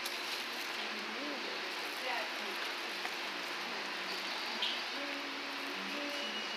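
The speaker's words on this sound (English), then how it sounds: "It is pouring down." Steady broadband hiss of rain pouring down, constant and fairly loud throughout, with faint voices and background sounds underneath.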